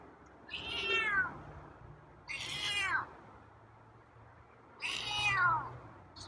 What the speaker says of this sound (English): So you got some meows today